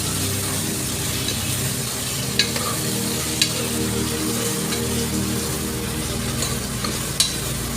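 Ingredients fry in a pan for bisi bele bath, a constant crackling sizzle over a low hum, with a few sharp ladle taps against the vessel.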